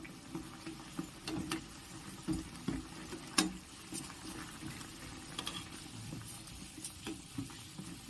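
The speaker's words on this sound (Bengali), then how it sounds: "দেখুন বন্ধুরা কি সুন্দর ফুটছে।" Goja sweets bubble gently in oil over a low flame, a quiet, steady crackle with scattered soft pops and clicks running throughout.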